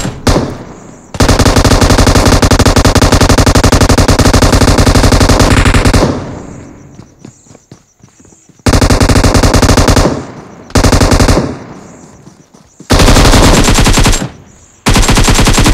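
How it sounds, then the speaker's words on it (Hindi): Machine gun fire in the mobile shooter Battlegrounds Mobile India, very loud sustained automatic bursts of several seconds each, broken by short pauses and a longer gap, with no talking. "ये बंदा जो था ये काफ़ी मतलब मशीन गन लेकर वो धड़ा धड़ा धड़ा धड़ फायरिंग दे रहा था"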